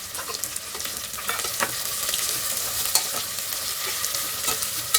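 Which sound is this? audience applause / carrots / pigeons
carrots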